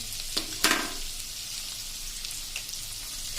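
Chopped ginger and finely cut green chillies sauté in a hot pan, giving a steady close sizzle with a couple of sharp crackling bursts near the start, then an even hiss.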